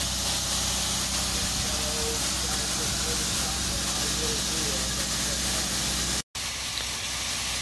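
Continuous loud rushing hiss of air blowing through a fire ring around a steam locomotive tire on its wheel center, steady and broadband with a brief dropout near the end.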